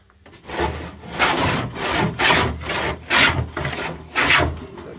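A long jointer-type hand plane smooths a large flat wooden surface, making five steady, rhythmic shaving strokes up close with short pauses between them and no talking.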